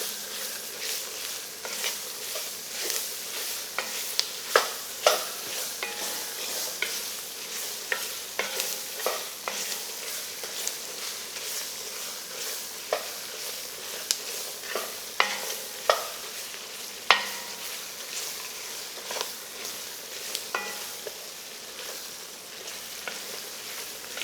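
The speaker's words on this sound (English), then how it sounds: "We're going to stir this in, cook it in for about 5 minutes. Till the vegetables get a little wilted." Vegetables being stirred into a gumbo roux in a pot, with a constant sizzle and frequent scraping, clicking spoon strokes at an irregular rhythm, close and steady with no talking.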